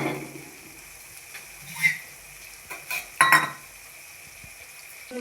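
Peas are tipped into a pan of spiced mixture for Bengali ghugni and stirred; a soft, steady sizzle runs underneath a few sharp clattering scrapes of a spoon against the pan, close up.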